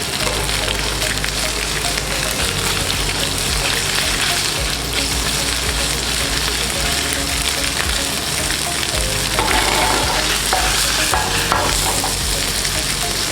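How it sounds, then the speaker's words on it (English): Chicken stir-fries in a hot pan, with a loud, dense, steady sizzle and crackle close up, punctuated by the scrape of stirring throughout, no talk. "And when you hear that sizzle, that means you're in the right temperature."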